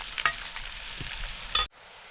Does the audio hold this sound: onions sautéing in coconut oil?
yes